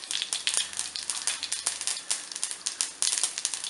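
Mustard seeds splutter in hot oil in a kadai, making a bright, busy crackle of rapid pops that keeps up without a break.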